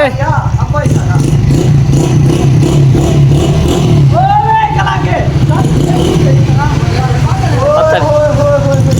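Motorcycle engine droning and revving continuously on a road tour from a village to Multan, loud and close, with voices talking over the engine noise.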